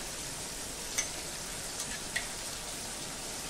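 Onion with ginger-garlic paste sautéing in a pan, giving a steady, even sizzle and hiss throughout, with a couple of faint pops and ticks.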